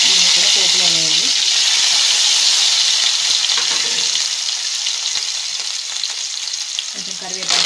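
Pounded roasted-onion paste hits hot tempering oil for a fish curry, giving a loud, steady close sizzle and hiss throughout, with a voice briefly audible at the start and near the end.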